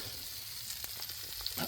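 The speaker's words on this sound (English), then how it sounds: "That's the sound of sausages sizzling." Steady, crackling sizzle of sausages frying in a pan at a wild camp, with a few sharper pops and spatters over the constant hiss.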